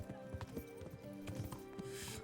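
Rhythmic hoofbeats of a horse galloping in the video game Kingdom Come: Deliverance, quick repeated clops with a soft whinny-like tone, fairly quiet, over faint game sounds.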